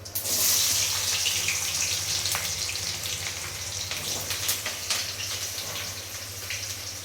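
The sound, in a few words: onions sautéing in a pan while cooking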